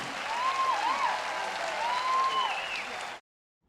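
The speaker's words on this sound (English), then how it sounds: "Round of applause, ladies and gentlemen, for the Singapore Symphony Orchestra" Audience applause for the Singapore Symphony Orchestra at an outreach concert, a steady wash of clapping at moderate level with a faint voice or whistle-like tone gliding over it, then cutting off abruptly near the end.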